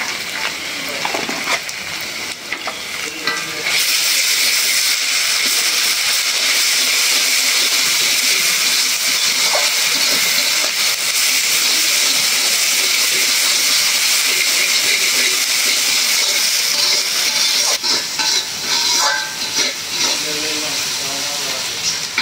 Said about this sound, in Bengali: আদা রসুন বাটাটা একটু ভাজা ভাজা করে নিলাম।